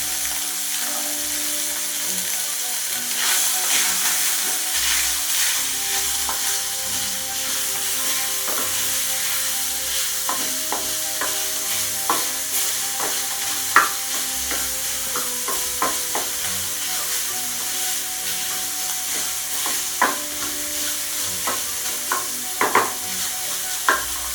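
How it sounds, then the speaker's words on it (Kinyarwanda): Peppers and onions stirred in a hot pan for homemade pizza, a steady sizzle with repeated sharp scraping and clacking strokes of the utensil, close and fairly loud, with no talk. "ufata kuri za pavuro na bya bitunguru byacu ukabivangamo"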